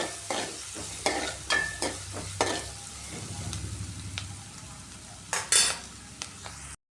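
Egg roast masala with turmeric sautéing in a pan, a steady soft sizzle and frying crackle broken by repeated stirring scrapes and clinks of a spoon against the pan, close and fairly quiet, with no talking.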